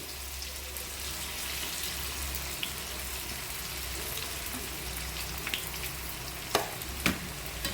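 Vegetable semiya masala vadas deep-fry in hot oil over a medium flame, making a steady, faint, crackling sizzle. Two sharp clicks of a utensil sound near the end.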